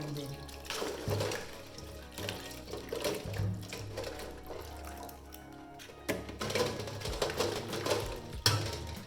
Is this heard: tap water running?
yes